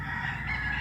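A Gravedigger gamefowl rooster crows in a yard full of chickens: a single brief, close crowing call heard alone over a low background hum.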